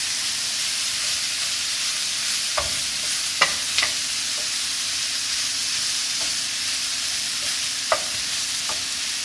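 Vegan tofu bolognese stirred in a pan, a steady soft sizzle and hiss with a few sharp spoon scrapes and clicks against the pan, close and moderately quiet, with no one talking.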